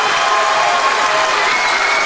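Loud, steady crowd noise at a high school basketball game, a cheer group and fans on their feet roaring and clapping throughout, dense and close with no pauses.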